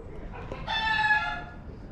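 A rooster in a pen shared with hens crows once, a brief clear call rising out of faint background clucking, close by.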